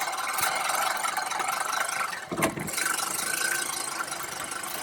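A Scotts Classic 20-inch manual reel mower cuts through new grass with a continuous whirring, clicking rattle from its spinning blades. It stays close and steady, with a brief bump in the middle.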